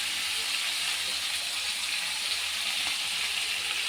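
Vegetables sizzle in a pan with salt and turmeric, a steady bright frying hiss that stays even and close for the whole stretch, with no talking.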